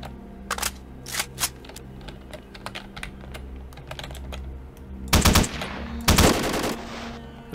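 Gunfire in the video game STALKER: The Lost Alpha, heard as a few faint scattered shots over a low hum, then two loud, close bursts of rapid automatic fire, with keyboard clicking throughout.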